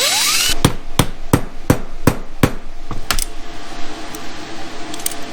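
Hammer blows drive a new pin into a governor gear for a Chevy Nova transmission rebuild: about nine sharp metallic strikes in an uneven rhythm, close and loud, with a light rattle after the final blows.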